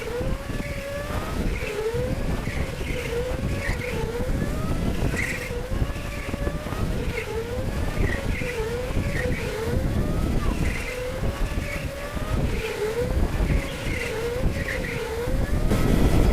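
Indoor electric go-karts race in a league event at K1 Speed, their motors giving a steady whine that rises and falls lap after lap in repeating swells, continuous and fairly loud throughout.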